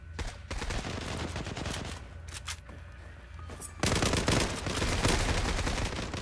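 Gunfire in the online shooter game Zula, continuous rapid automatic bursts that swell louder after a brief lull, close and dense, with no talking over it.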